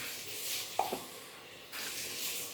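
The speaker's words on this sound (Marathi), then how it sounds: "थोडंसं ठेवून फोडणी देणार आहे" Mustard-seed tempering crackles and sizzles in hot oil while horse gram shengole is cooked, a soft steady hiss with a couple of quick clinks early on, then the sizzle swells louder near the end.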